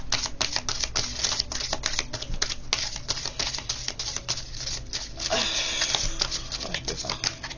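Long oracle cards are shuffled in the hands, giving a dense run of rapid, crisp clattering snaps and rustles that stay close and fairly loud without a break.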